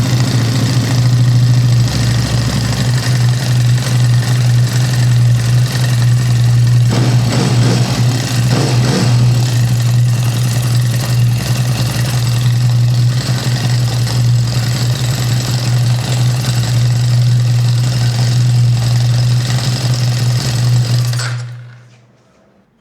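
A Ducati Sport 1000S motorcycle engine idles loudly up close, running without its clutch rod and retainer, a steady rough rumble with a mechanical clatter over it, then cutting off abruptly near the end.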